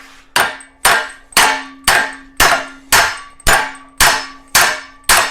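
Ten sharp metallic hammer blows on a stuck pipe fitting's housing land at an even pace, each ringing briefly with a clanging tone before the next strike, close and loud with no talking.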